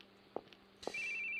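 A phone ringtone in an RPG Maker horror game: two short tones, then a sustained high electronic ring that holds steady, heard alone without talk.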